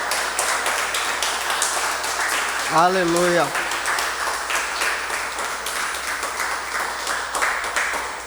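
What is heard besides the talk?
applause in a church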